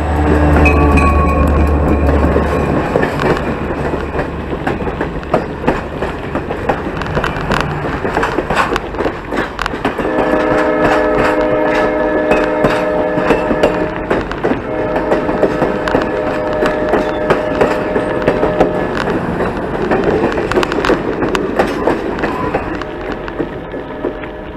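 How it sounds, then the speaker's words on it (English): A train passes a curve on the Cumberland Gap trail, a long steady rumble of rolling cars with clanking. Several drawn-out horn tones sound partway through the pass. "here comes a choo-choo."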